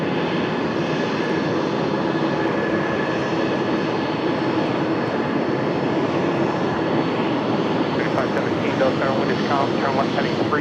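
Boeing 737 jet at an airport, a loud sustained engine roar filling the whole stretch with a steady broadband rush, faint chirping birds rising near the end.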